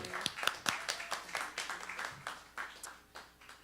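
Scattered audience clapping for a speaker at a jazz talk, a loose patter of individual hand claps from a small crowd, moderately near and fairly quiet, no talk.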